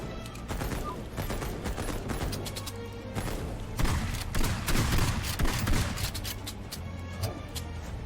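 Dual-wielded guns firing in the video game Headcount, a dense, continuous burst of rapid shots with heavier booms midway, loud and steady throughout.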